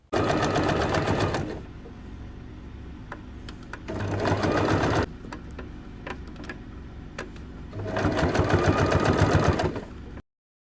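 Sewing machine stitching bias binding onto the edge of a bag pocket panel, loud steady rapid runs in three bursts with quieter mechanical ticking and handling between them.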